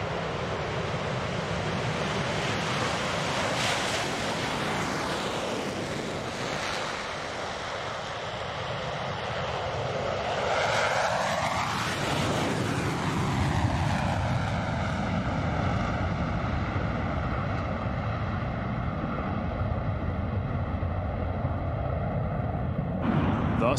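The four Blue Angels Diamond jets take off at the SUN 'n FUN 2021 air show in afterburner. A loud, sustained roar builds, swells into a sweeping pass overhead and stays powerful, with faint crowd or announcer sound beneath.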